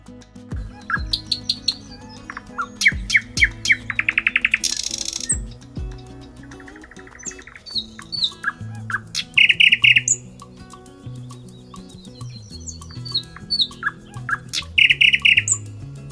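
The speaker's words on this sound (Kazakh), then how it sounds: "Бұл әнші қыз Бұлбұл." A nightingale sings a varied, rich song of rapid trills, sharp whistles and buzzy rattles in bursts, close and clear against a quiet background.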